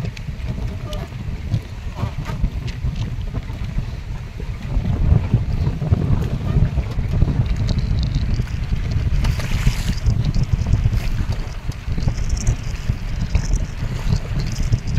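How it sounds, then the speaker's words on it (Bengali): Strong wind buffets a small river boat in the Sundarbans while waves slap and churn against the hull, a loud continuous rush with gusts swelling midway, close and without talk. "যেমন হাওয়া তেমন কিন্তু ঢেউ।"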